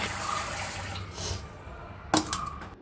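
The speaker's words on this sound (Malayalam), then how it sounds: "ഞാൻ അരി ഉഴുന്നും കൂടെ ആ സമയത്തൊന്ന് വെള്ളത്തിലിട്ട് വയ്ക്കുവാണേ" Water runs and splashes into a bowl of rice and urad dal set to soak for dosa batter, a brief trickle with a sharper splash near the end, fairly quiet and without talk.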